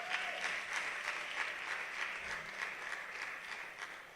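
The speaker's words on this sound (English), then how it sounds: "A round of applause for Mr. Aliu Jamiu, too" A room full of listeners at a university talk on youth and African economic development claps together in a steady, dense burst of applause that carries evenly from start to finish.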